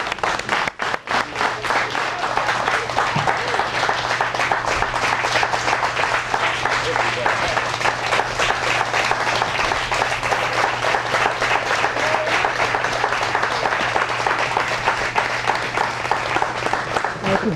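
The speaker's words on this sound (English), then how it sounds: "I want you to stand up on your feet and give a large round of applause to Sister Merira Kwesi." Sustained audience applause from a crowd at a standing ovation for a speaker, loud dense clapping filling the whole stretch with a faint low hum beneath and no talk.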